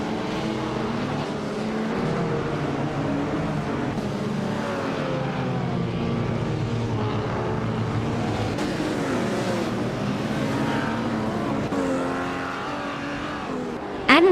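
Race cars, among them a 1957 Ferrari 250 Testarossa, drone around a circuit with a continuous, steady engine roar and shifting pitch, loud and close, no voices.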